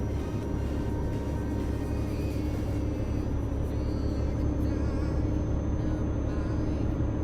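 A truck in Euro Truck Simulator 2, running with realistic sound mods, drones along with a steady low engine rumble and road noise, constant and fairly close, with no talk over it.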